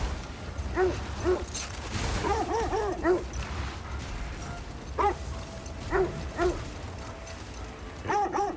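Several sled dogs in God of War Ragnarok bark and yip in scattered bursts, some whimpering high and thin, moderately close over a steady windy outdoor background.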